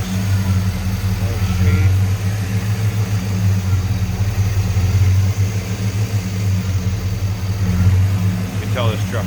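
A 1987 Chevrolet K20 4x4 pickup's restored V8 idles smoothly with a steady low rumble, close by, while someone talks briefly over it.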